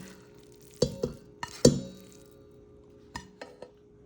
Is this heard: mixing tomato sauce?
yes